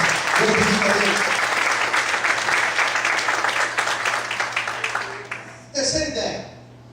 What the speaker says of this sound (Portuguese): Quantos podem aplaudir e exaltar ao nome do Senhor nessa noite?